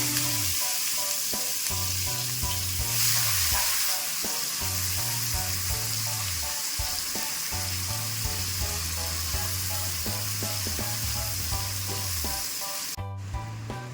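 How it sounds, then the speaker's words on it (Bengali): Finely chopped onion fries in hot oil with bay leaves and cumin, producing a loud, constant sizzle under a low, repeating background melody, with no speech. "একটা বড় পেঁয়াজ ছোট কুচি কুচি করে কেটে নিয়েছি, পেঁয়াজ কুচিটা দিয়ে দিচ্ছি।"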